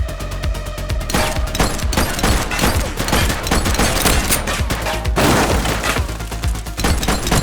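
Sustained gunfire in The Precinct police video game, a dense, loud fusillade of rapid shots and cracks running continuously with brief bursts layered on top, no speech.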